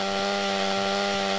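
Steady, loud chainsaw engine drone from a chainsaw-wielding enemy in the video game GTA Wasteland, a continuous buzzing whine held throughout with no pauses.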